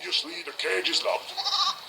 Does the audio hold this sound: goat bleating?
yes